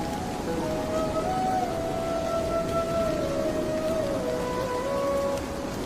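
Steady, loud rain pours throughout a stormy night scene in a Bangla cartoon, a dense hiss of drops with thin, wavering whistling wind tones drifting above it and no talking.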